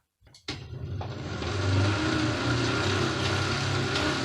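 A budget indoor cycling trainer spins up from a standstill after a click, rising into a loud, steady mechanical whirr and drone that holds at close range.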